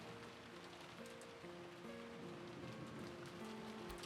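Steady wind and rain sound effect from the visual novel Umineko no Naku Koro ni, a continuous hiss of rainfall that stays even throughout under soft sustained background music tones.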